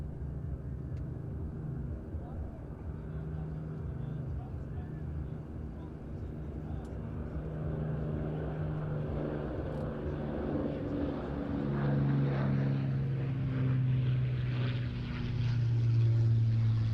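The BBMF's Avro Lancaster PA474, a four-engine propeller bomber, flies a sunset display at the Ayr Show 2024: a distant, low, steady droning hum that swells gradually as the aircraft draws nearer, with no talk.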